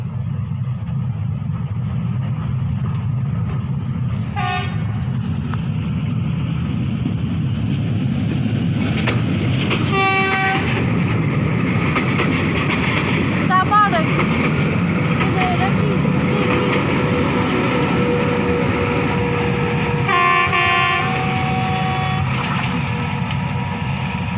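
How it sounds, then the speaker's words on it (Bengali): A small two-car train rumbles past on a railway line, low and continuous, with several short horn blasts; people talk nearby. "ট্রেন আসতেছে, এটা একদম ছোট 2 ডাব্বা মাত্র"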